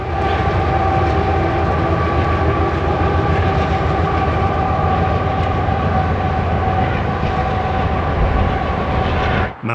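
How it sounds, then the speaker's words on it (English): A Union Pacific freight train rumbles past on the Portland Sub, with Kansas City Southern and Union Pacific helper locomotives shoving at the rear, a loud steady drone of engines and rolling wagons that continues unbroken until an abrupt cut at the end. "Kansas City Southern and Union Pacific locomotive help keep the train moving as they shove on the rear of the train."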